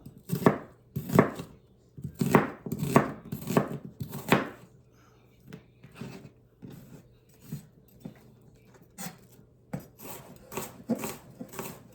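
Knife chopping onions on a cutting board, a series of close, crisp rhythmic chops in bursts with brief pauses between, alone without talk.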